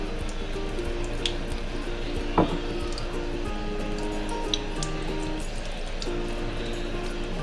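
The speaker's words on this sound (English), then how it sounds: "we're going to do is just run some water underneath the caps, and over top of the caps" Tap water runs steadily over foraged mushroom caps being rinsed in a kitchen, a constant close splashing stream with a few small drips and taps, no talk.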